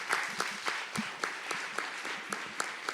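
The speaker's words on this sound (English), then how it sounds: "So big applause for Lilith." Audience at a conference talk on code politics, justice and technology applauds: sustained clapping with distinct individual claps standing out, moderately near, no talk over it.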